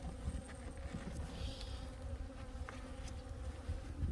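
Honeybees buzz steadily at an apiary hive during a December inspection in South Jeolla. A dense, continuous drone carries individual bees passing close by, with quiet low background rumble.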